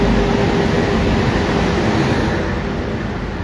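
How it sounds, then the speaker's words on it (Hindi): Saharsa Humsafar Express moving past platform 3 at Rajendra Nagar station, a steady loud broadband rumble and roar of rolling rail cars close by, continuous with no voices. "फिलहाल अब जा रही है राजेंद्र नगर प्लेटफॉर्म संख्या 3 पर सहरसा हम सफ़र एक्सप्रेस"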